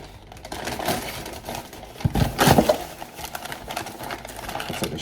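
Heavy brown paper wrapping is torn and crinkled off a shipped box holding a motorcycle bash plate, giving irregular rustles and crackles that peak in a louder burst of tearing partway through.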